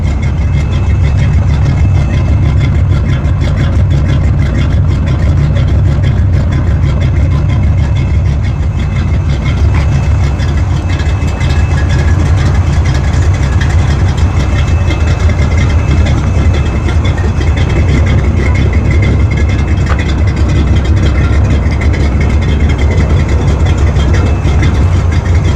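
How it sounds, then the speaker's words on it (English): A Chevrolet C10 pickup truck engine idles with a steady, low rumble at close range, loud and unchanging with a rough, throbbing texture throughout. "when I get close to the truck when it's running"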